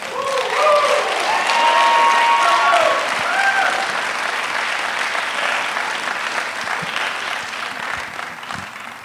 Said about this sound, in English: please give a big round of applause for her as she comes out here